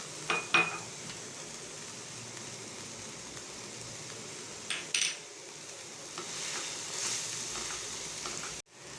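Cabbage fried rice sautéing and being stirred in a pan, a steady soft sizzle with a few louder scraping stirs near the start and middle, no talk.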